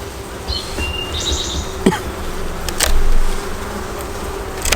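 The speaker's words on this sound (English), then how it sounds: "there's still quite a few bees up here" Honeybees hum around their hive in a low, continuous buzz, with occasional louder passes close by and faint bird chirps in the background.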